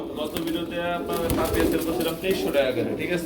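Pigeons coo softly and repeatedly close by at a pigeon market while people talk over them.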